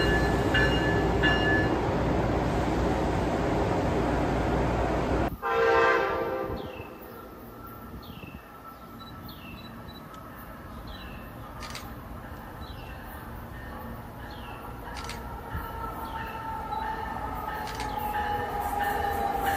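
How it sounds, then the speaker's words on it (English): MBTA, Amtrak or CSX train approaching a station, with a loud sustained horn blast for several seconds, then a steady rolling rumble with periodic squeals and clanks of passing cars, heard alone. "Train approaching."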